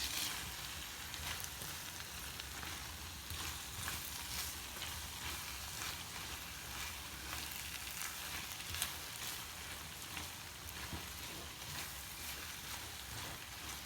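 Steady sizzling of liver and tomatoes frying in a sac pan, a wide convex griddle pan, with a spoon scraping and stirring through it in a loose, continuous rhythm, close up.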